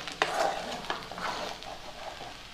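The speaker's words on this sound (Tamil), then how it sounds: "நல்லா வந்து மிக்ஸ் பண்ணி விடுங்க. பெப்பர் வந்து எல்லா இடத்துலையும் கோட் ஆகிற மாதிரி." Mushroom fried rice with pepper stirred in a pan, with a ladle scraping and clinking against metal over a soft frying sizzle, several distinct strokes close up, no talk.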